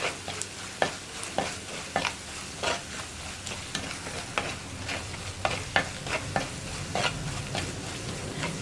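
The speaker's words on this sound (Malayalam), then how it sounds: "അപ്പോൾ ഈ കുറച്ച് വയ്ക്കുമ്പോൾ നമുക്ക് കുറച്ച് സമയം ഒന്ന് ഇളക്കി കൊടുക്കണം" Potatoes and long beans with chili powder fry in a pan while being stirred, giving a continuous close sizzle broken by repeated scraping and clinking strokes of the spoon, with no voices.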